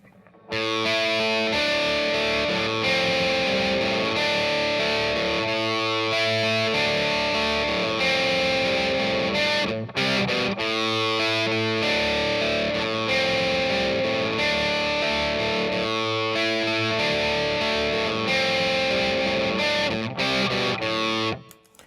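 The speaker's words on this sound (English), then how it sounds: "Now check it out with the distortion." A heavily distorted electric guitar plays a sustained riff, loud and steady, with a brief break midway before the chords ring on.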